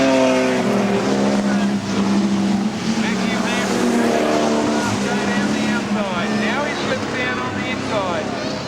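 Modified production race cars roar around Kingaroy Speedway on the final lap, engines loud and sustained with rising and falling pitch as they pass, while a commentator talks over the noise throughout.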